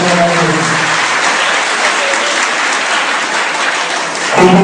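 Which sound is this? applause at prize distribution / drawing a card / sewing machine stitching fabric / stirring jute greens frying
applause at prize distribution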